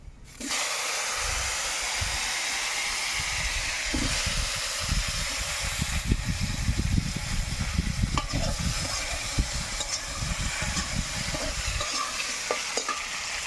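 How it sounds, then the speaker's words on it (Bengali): White and black mustard seeds and mango pieces frying in hot oil give a loud, continuous close-up sizzle with scattered crackling pops that last throughout. "এখন আমি একটু সাদা সরিষা আর কালো সরিষা ফোড়ন দিয়ে নেব একই সাথে আমগুলো দিয়ে ভেজে নেব"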